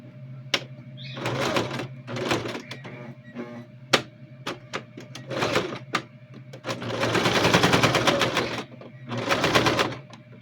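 An industrial sewing machine stitches a child's backpack in several rapid whirring bursts, separated by pauses with clicks and a steady low motor hum.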